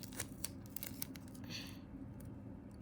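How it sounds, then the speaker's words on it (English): Tape pulled and pressed onto the back of a paper squishy, close-up crinkly rips and sharp clicks in quick bursts, then a longer smooth tearing stretch, faint with no talk. "So let's tape the back up."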